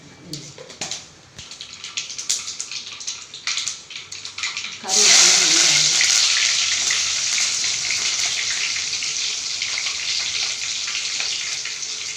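Tempering for a Tamil kuzhambu hits a hot pan with an abrupt, loud, sustained hiss that fills the rest of the clip, after several seconds of scattered kitchen clatter.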